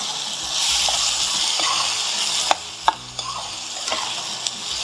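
Tomatoes and mushrooms sauté in oil in a pan for a mushroom pepper fry, giving a steady broad sizzle with a few sharp clicks of a spatula scraping and stirring, close and moderately loud, with no talk.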